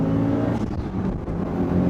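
Turbocharged Mitsubishi Lancer Evo Tommi Makinen engine revving loudly and steadily up close, a dense throaty roar with rising and falling pitch.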